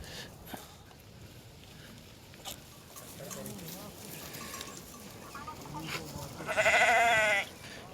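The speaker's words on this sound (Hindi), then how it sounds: "यहाँ पर अभी भेड़ बकरियाँ जो है आराम कर रही हैं।" Sheep and goats rest at a Himalayan shepherd camp in winter, with scattered faint bleats and shuffling under a low outdoor background, a few soft animal calls, and a louder burst near the end.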